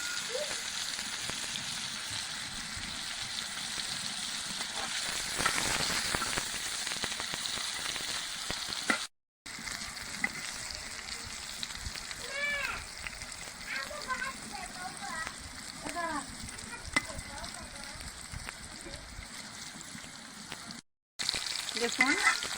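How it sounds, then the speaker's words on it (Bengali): Pointed gourd frying slowly in oil with turmeric over medium heat, a soft continuous sizzle with occasional stirring, and a person talking over it for much of the time. "এটা আমরা অল্প আছে আস্তে আস্তে ভেজে নিব।"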